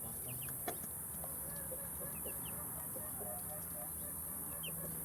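Chickens cluck and chirp faintly in the distance over a steady hiss of background noise, with a few brief clicks.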